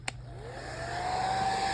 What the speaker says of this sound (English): Now this is where the hairdryer comes in really handy.